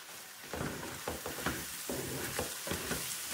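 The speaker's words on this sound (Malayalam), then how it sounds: "ഈ സവാളയും കൂടെ ഇട്ട് നല്ല പോലെ ഒന്ന് മിക്സ് ചെയ്തെടുക്കാം" Sliced onions being stirred into frying mutton roast in a pan, with steady sizzling under repeated scraping strokes of a spoon, close and moderately loud, no voices.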